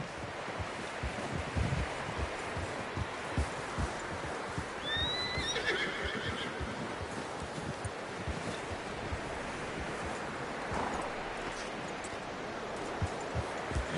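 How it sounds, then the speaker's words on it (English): A horse in Red Dead Redemption 2 gives one clear, loud whinny near the middle, over steady clopping hooves and a constant windy, surf-like outdoor wash. "I tried to ride the Count once. Bucked me faster than a bull."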